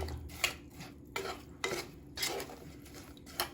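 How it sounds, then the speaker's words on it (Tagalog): Spoon or utensil clattering and scraping inside a cooking pot while a banana dessert with sugar is stirred, a few distinct metallic knocks spaced across a quiet background. "hahaluin natin hanggang sa maluto"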